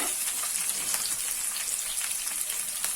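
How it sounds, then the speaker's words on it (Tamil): Garlic and small onions sauté in hot oil in a pan, a steady, dense sizzle with fine crackles running continuously and fairly close, with no voices over it. "இந்த பூண்டும் சின்ன வெங்காயமும் இந்த எண்ணெயில் நல்லா வதங்கணும்."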